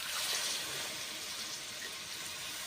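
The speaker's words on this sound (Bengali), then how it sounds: "এইবার পরিমাণ মতো জল দিয়ে দেব।" Water is poured into a vegetarian potato and pointed gourd curry in a pan, giving a steady, fairly loud rushing splash that lasts the whole moment with no talking.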